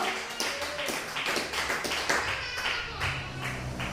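A church congregation claps along during a worship service, the hand claps coming in a loose, repeated rhythm that is moderately loud and steady over a low background hum.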